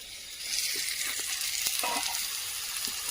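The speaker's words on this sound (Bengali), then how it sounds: "আলু এবং মটরশুঁটি খুব ভালো করে ভাজা ভাজা হয়ে গেছে" Potatoes and green peas frying in a pan for aloo posto, a steady close sizzle with occasional stirring scrapes and no talking.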